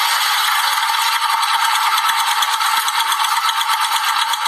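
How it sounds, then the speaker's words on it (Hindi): A motorcycle engine with a faulty cylinder head valve gives a loud, rapid ticking and chattering, a continuous close-up metallic clatter with no voices over it. "ये इस तेज आवाज में चट चट और टिक टिक का शोर है और ये अटपटी आवाज वाल्व से आ रही है।"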